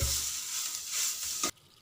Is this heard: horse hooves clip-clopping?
no